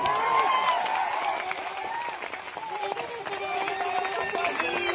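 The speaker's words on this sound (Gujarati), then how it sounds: "તાળીઓ પાડશો." A large crowd at a community political rally claps in sustained applause across the whole stretch, mixed with cheering voices and background chatter, loud and steady throughout.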